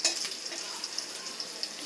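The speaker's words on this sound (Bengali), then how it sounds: "এদিকে পটল ভাজাটা হচ্ছে" Pointed gourd (potol) frying in a pan, a steady hiss of hot oil with soft crackles, fairly quiet and close, with no voices over it.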